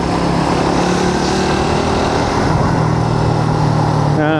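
A Suzuki GSX-R150 motorcycle engine drones steadily and loudly up close during a road ride, a continuous buzzing hum with steady pitch and heavy low rumble throughout.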